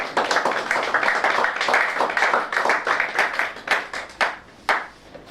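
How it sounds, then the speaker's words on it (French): A congregation claps during a church service, loud rhythmic clapping with accented strikes, thinning toward the end into a few separate claps. "Oui, vous pouvez applaudir Dieu."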